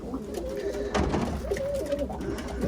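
Pigeons in a coop on a stormy day give repeated throaty coos, close and fairly loud over a steady background hum, with some birds sitting on eggs nearby.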